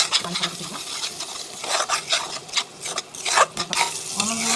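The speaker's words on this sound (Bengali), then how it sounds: "আমি মশলাগুলো একদম ভালোভাবে কষিয়ে নিব আমি কোনো পানি অ্যাড করবো না" Spices stir-fried in a dry pan with no water added give an uneven sizzle, with repeated scraping and clinking of a utensil against the pan in bursts, close by and without speech.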